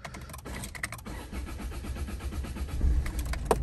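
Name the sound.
used car engine struggling to start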